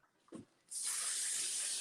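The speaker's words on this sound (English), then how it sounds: "I'm now going to go back into my hairspray" Hairspray hisses from an aerosol can in one steady, close burst lasting over a second as it is sprayed onto braided hair, preceded by a soft handling noise.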